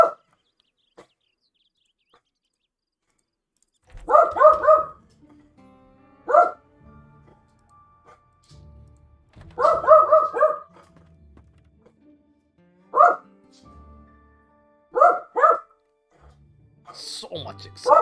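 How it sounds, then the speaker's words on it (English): An excited puppy barks in short clustered bursts of yips and barks spread out with quiet gaps between them, close and loud, with a brief higher sound at the end. "Puppy's excited."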